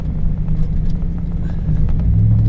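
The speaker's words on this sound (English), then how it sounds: "I'm still spinning my tires on some of these turns." Truck tires spinning on compact dirt packed down by heavy semi trucks on a track into an old camp. The result is a steady, close low rumble of engine and tire churn with no let-up.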